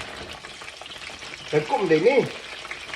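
French fries bubble and crackle in hot oil with a steady close sizzle, while someone speaks briefly over it.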